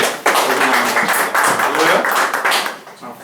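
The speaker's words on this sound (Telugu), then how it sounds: "ఒకసారి గట్టిగా చప్పట్లు కొడుతూ" Congregation in an Episcopal church consecration clapping loudly, a dense, sustained burst of applause that fills the space and fades toward the end.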